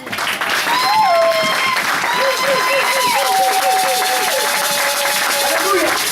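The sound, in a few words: congregation applauding and acclaiming Jesus in church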